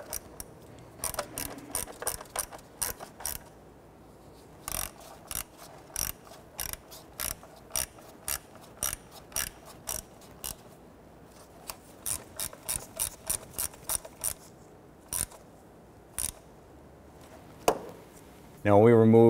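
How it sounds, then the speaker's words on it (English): Ratchet snugging down four bolts on a plastic cover, bursts of rapid clicking pawl sounds repeating in short runs with pauses between, close and crisp, ending with a brief louder knock. "go ahead and gently snug down those 4 bolts"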